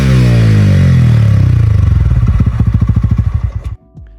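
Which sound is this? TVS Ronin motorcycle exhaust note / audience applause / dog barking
TVS Ronin motorcycle exhaust note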